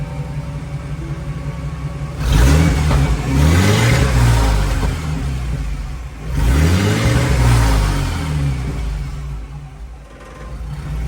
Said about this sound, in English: Let's rev her up a little bit.